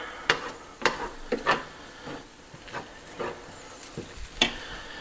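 A dry white wine mixture being stirred in a pot, with intermittent scraping, sizzling strokes and soft clinks at an uneven pace, close and fairly quiet, with no talk.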